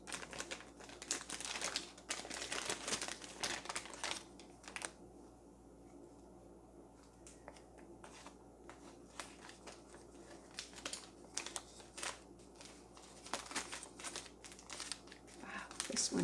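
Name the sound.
package being opened with scissors, crinkling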